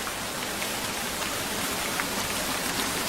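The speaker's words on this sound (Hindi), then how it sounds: "धीरे धीरे बारिश शुरू हो गई।" Steady rain falls through a forest at night, a dense, even hiss of drops with no pauses and no voices.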